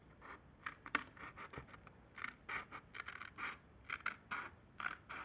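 Scissors snip through paper for a scrapbook art collage page, cutting around the rounded curve of a window shape in a quick run of short crisp cuts, close and fairly faint, with no talking.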